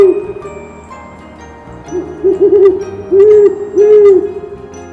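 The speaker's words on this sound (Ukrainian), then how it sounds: "послухайте, як кричать сови." Several owl hoots in close succession, clear and fairly loud over a low steady background.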